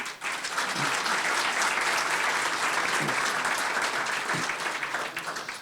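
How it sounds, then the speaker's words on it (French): An audience at a conference on the economic impact of the Vaudreuil hospital applauds for several seconds. The clapping is steady, dense and sustained, with many hands at an even level and no speech over it. "Vous pouvez les applaudir."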